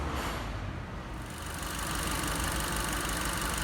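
A new-model Kia Sportage 2.0 Flex engine idles roughly with a misfire in a repair shop, giving a steady, dense mechanical drone with an uneven undertone that runs continuously throughout.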